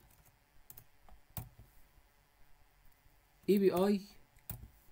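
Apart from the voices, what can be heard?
typing on a computer keyboard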